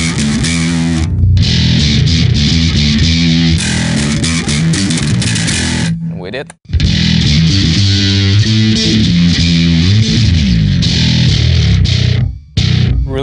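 A heavily distorted electric bass played through a Tech 21 VT Bass SansAmp pedal plays a thick, buzzing riff, loud and sustained with a couple of brief gaps. A short spoken word appears once.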